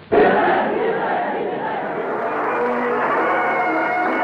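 An enthusiastic crowd demonstrates outside the German and Italian embassies in an old newsreel, a dense, loud roar of many voices and cheering that starts abruptly and holds steady to the end.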